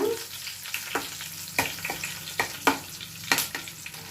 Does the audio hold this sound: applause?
no